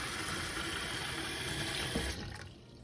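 Tap water runs in a steady, close rush to rinse the nib of a Pilot Vanishing Point / Decimo fountain pen, then cuts off and fades just before the end.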